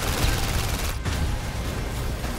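Gunfire in PlayStation VR Worlds, a dense continuous barrage of shots that stays loud and close throughout, with one brief dip in the middle.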